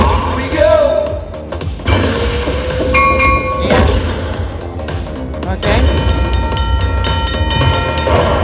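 A Railroad Riches slot machine in a Las Vegas casino plays its train feature: rumbling rail clatter and a horn-like tone rise above busy casino ambience, with people talking nearby.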